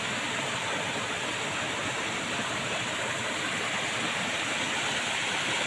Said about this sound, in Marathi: हा बघा पाणी कसला वावता मस्तपैकी